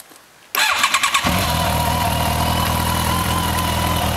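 Motorcycle fitted with Quill exhaust cans cranks over with a few rapid chuffs, then catches and settles into a loud, steady, close-up idle with no talking.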